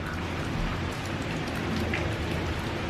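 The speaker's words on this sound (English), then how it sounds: "it is still raining" Steady heavy rain hisses outdoors without a break, a dense, even wash of drops drumming on surfaces.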